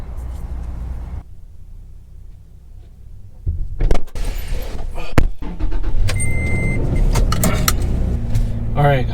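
A Toyota Tacoma 2WD X-Runner pickup's engine and road noise build as it pulls away and drives on street roads, with rattles and clunks from inside the cab, steady and close.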